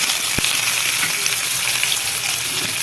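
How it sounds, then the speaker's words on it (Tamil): Curry leaves and onion sizzle in hot oil while cooking a brinjal poriccha kuzhambu, a steady loud frying hiss with one sharp crackle near the start, no voices. "கருவேப்பிலை வெங்காயம் போட்டலாம்"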